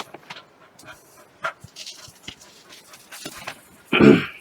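A Labrador dog pants in quick, breathy puffs at close range, with scattered rustling and movement, then a louder burst of sound near the end.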